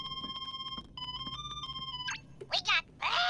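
The gummy phone in Kingdom Hearts 3 rings with a bright repeating electronic chime in two bursts, followed by short character voices speaking.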